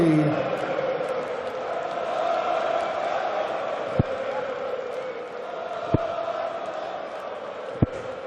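A 5,000-strong, mostly Dutch crowd at a darts semi-final keeps up a loud, steady roar of chanting and jeering throughout, with three sharp dart thuds cutting through at regular intervals.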